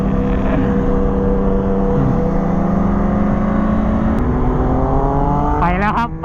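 A car engine revs hard on a road trip, a loud, close, steady drone whose pitch climbs as the car accelerates, rising sharply in the final second.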